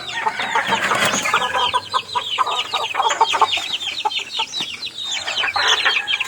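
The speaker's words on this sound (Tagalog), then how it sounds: "Ito siya mga kabakir, yung aking uh, tatlong buwan na manok." Three-month-old chickens cluck continuously in a busy, overlapping chorus in a backyard, close and fairly loud, with short clipped calls and occasional higher squawks.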